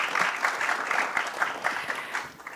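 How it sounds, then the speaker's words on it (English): Audience applauding at a film premiere event, steady dense clapping from a crowd held at an even level throughout, no speech over it. "One more round of applause for that,"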